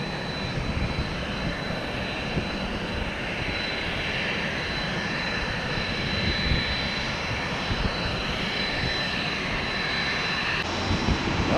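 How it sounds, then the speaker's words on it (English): A Hawker Beechcraft 400XP business jet roars steadily at a distance, its broad engine noise rushing and continuous for the whole stretch, alone with no talk. "Well, looks like it's a Hawker Beechcraft 400 XP."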